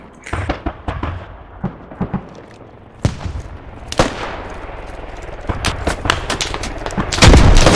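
Gunfire in the military shooter Squad on an airfield: scattered sharp shots and bursts, some near and loud, others farther off, building into a heavy burst at the end, with no talk.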